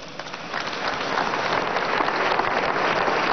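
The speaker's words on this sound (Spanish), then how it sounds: "pido un fuerte aplauso para él" An audience applauds President Nicolás Maduro at a ceremony moving Fabricio Ojeda's remains to the National Pantheon, a loud, dense wash of clapping that swells and holds steady.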